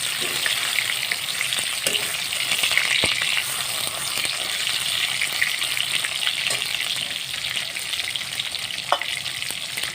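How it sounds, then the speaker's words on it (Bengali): Soy protein chunks fry in hot oil with a loud, dense, continuous sizzle, broken by occasional small clicks and pops, heard close. "এটাকে দিয়ে আমি ভালো করে ভেজে নেব"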